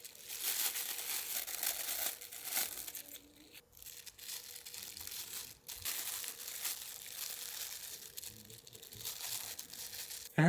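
Strips of tape are cut and pressed onto a Z Cam F6 cinema camera, giving soft continuous crinkling and rustling up close, with a few brief breaks, fairly quiet overall.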